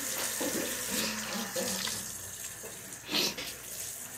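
A bathroom tap runs steadily while someone rinses their face, a continuous close hiss of water with splashes and brief soft voices.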